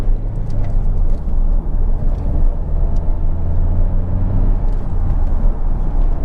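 Steady low rumble of road and engine noise inside a Vauxhall Insignia 2.0 CDTi SRi cruising at about 60 mph, continuous and fairly loud with no talking.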